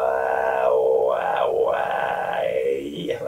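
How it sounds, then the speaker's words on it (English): A singer's vocal burn warm-up, a strained, gritty voiced sound held continuously for several seconds, wavering in pitch and rising and falling in a rough growl, close and loud. "I use this kind of a vocal burn technique a little bit just to get the muscles loosened"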